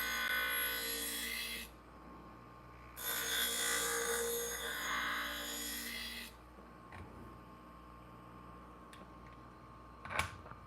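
Scissors or a knife are drawn along a sharpener in two long rasping passes, close and clear, then a quieter stretch with faint ticks and a sharp click near the end.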